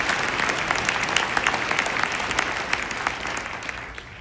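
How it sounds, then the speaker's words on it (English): A graduation ceremony audience celebrating a law school class breaks into applause, a dense, loud and sustained clatter of many hands with no voices, tapering slightly near the end. "Let's give us all a round of applause."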